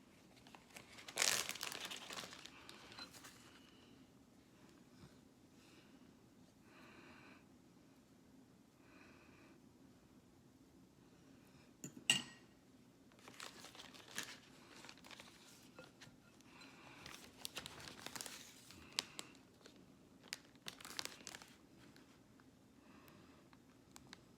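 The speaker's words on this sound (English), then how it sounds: "now we're going to transfer our mixture to a baggie" A plastic baggie crinkles and rustles as a chalk mixture is spooned in for puffy sidewalk chalk, with irregular bursts of crackling and a few louder scrunches, close up and without talk.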